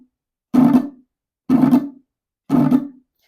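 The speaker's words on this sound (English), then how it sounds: "I like to also roll with my thumb because it gives it a bit more of a fuller sound like this." Three evenly spaced parang strums, each a thumb roll across the strings for a fuller sound, quick brushy bursts with short pauses between, close and clear.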